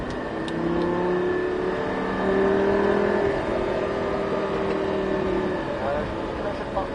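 A Lamborghini LP560 engine revs and accelerates steadily on a race track at Circuit de Folembray, its pitch rising and holding, with a voice speaking over it.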